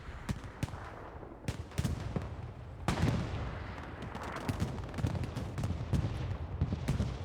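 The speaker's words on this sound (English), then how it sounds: "Bombing run going in." A bombing run in the World War II shooter Hell Let Loose, with a rapid series of sharp blasts and gunfire cracks over a rumbling battlefield, including a heavier thump near the middle, no talking.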